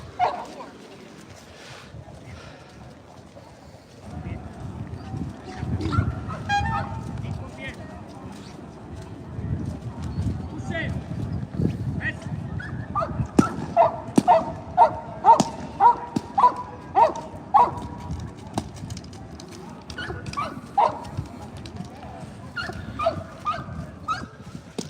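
At a Mondioring world championship in Portugal, a dog pushes through a decoy's foam fence during the accessory attack, with scuffling, yips and whimpers amid crowd noise and an announcer talking over it.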